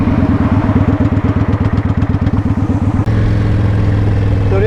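A motorcycle engine idles up close in Houston, Texas, just back from a dealership repair for an oil leak, its rapid loping pulses giving way to a smoother, steadier rumble partway through.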